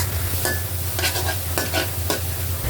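Grated raw papaya frying in ghee over a low-to-medium flame gives a continuous close sizzle, with several scraping strokes of a spoon stirring through the pan; no voices.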